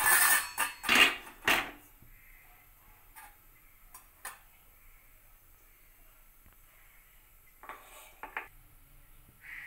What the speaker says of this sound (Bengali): এবার আমি ওভেনটা জ্বালিয়ে কড়াইটা কিছুক্ষণ গরম করে নেব।